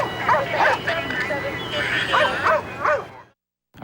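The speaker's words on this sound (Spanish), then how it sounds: "Un oficial del condado de Prince George llegó con un perro policía" Police dog of the Prince George's County force barking and yipping in short repeated bursts, fairly close, over a continuous background of voices and crowd babble before a brief drop to silence.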